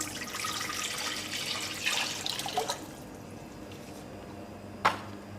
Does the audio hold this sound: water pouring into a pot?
yes